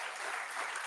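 Steady applause from a conference audience at a live socialism event, dense and continuous through the short moment, without talk.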